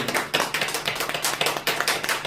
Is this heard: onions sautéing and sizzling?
no